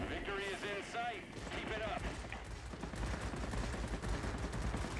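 IL-10M 23mm cannons fire in rapid, continuous bursts in the video game World of Warplanes, a dense rattling stream under someone talking early on.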